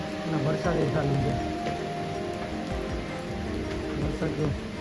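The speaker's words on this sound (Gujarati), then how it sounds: "વરસાદ ચાલુ છે." Steady rain pattering on surfaces during a monsoon climb of Parnera hill fort in Valsad, continuous and close, with people talking over it.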